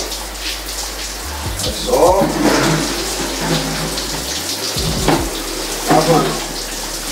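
Shower water runs steadily while a jiu-jitsu kimono is washed, a continuous hiss and patter spread across the clip, with people talking briefly over it and some handling noises.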